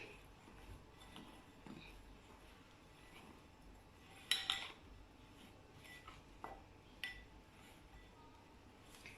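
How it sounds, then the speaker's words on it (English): Crepe batter being stirred in a bowl, with faint soft scraping and a few light clinks of a utensil against the dish, quiet and close. "Put that on the side and just stir these together"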